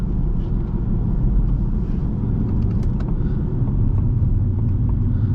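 A 2019 Ford Mustang Bullitt with a 6-speed manual drives along, heard from inside as a steady, loud low engine and road rumble with no talking.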